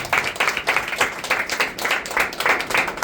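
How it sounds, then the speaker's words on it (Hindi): A congregation at a church meeting claps in a strong, regular rhythm, loud pulsing bursts of many hands repeating about three times per second, close and continuous with faint voices underneath. "जोर से ताली बजाओ आज परमेश्वर के लिए।"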